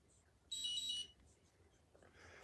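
An alarm gives a single shrill electronic beep lasting about half a second, fairly faint against a quiet room.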